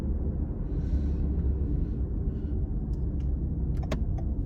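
A 2018 Toyota Camry LE engine revs with a steady, loud low rumble that holds throughout, with a few light clicks and jingles on top.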